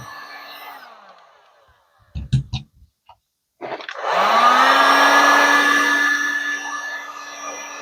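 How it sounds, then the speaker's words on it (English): A heat gun shrinking heat-shrink tubing over a repaired hair dryer wire joint: a short handling clatter, then the gun switches on to a loud steady whirring blow with a tonal whine, close by and sustained. "So we're just going to very carefully hit that with the heat gun."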